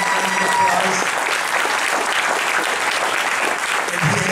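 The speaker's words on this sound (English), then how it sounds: "Please give him a rousing round of applause." Rousing applause from an evening audience, dense sustained clapping filling the room with a faint voice underneath near the start.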